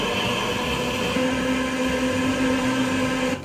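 A kitchen blender runs continuously, blending avocado, strawberry and milk into juice with a loud, steady motor whine and churning hum that cuts off abruptly at the end.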